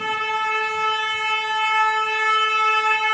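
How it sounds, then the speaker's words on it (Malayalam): A fish vendor's vehicle sounds its horn loudly while passing, one sustained, strongly tonal blast held steady for the whole moment, with no talking. "മീൻ വണ്ടിയാണോ? ഭയങ്കര ഹോൺ അടിച്ചു പോകുന്നു."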